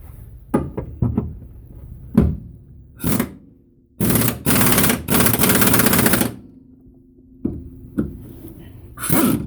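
A pneumatic impact gun tightens a rear lower control arm bolt on a Honda Civic, starting with several short sharp bursts and then building to two long, loud rattling runs, close up with quiet pauses between.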